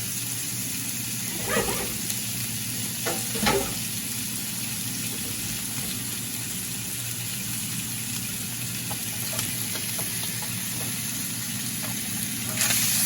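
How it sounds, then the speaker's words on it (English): Bacon fries in a skillet with a constant, fairly loud sizzling hiss throughout, broken by a few brief clatters, and no one speaks. "we're gonna add our bacon to this skillet"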